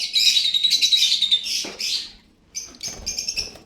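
A blue pastel splitino breeder pair of peach-faced lovebirds calling up close, with a run of shrill chirps, a pause, then another burst of sharp calls.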